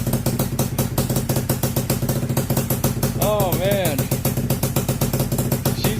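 A Honda FL250 engine idling after a cold start: a loud, rapid, even putter with mechanical clatter, steady throughout. A person briefly talks over it and a short warbling chirp rises partway through.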